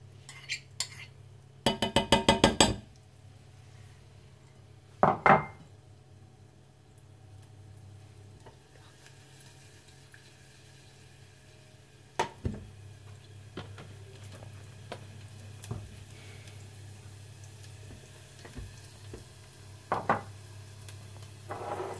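Garlic in oil in a pan, quiet with a low steady hum, broken by sharp clattering utensil scrapes and knocks against the pan at scattered moments, a few in quick bursts.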